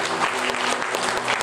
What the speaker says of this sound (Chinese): 请大家掌声献给我们爸爸妈妈